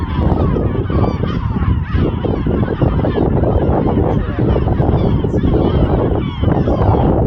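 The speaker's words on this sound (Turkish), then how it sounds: "martı yavruları arkadaşlar" A flock of young seagulls on a deserted island calls in a dense, continuous chorus of harsh squawks and cries, loud and close throughout with a little talk mixed in.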